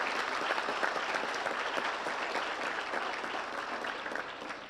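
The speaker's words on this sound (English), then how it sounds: "Another round of applause for all of them." A banquet crowd honoring scholarship winners applauds steadily for several seconds, dense even clapping that stays loud throughout and eases slightly near the end, no voices.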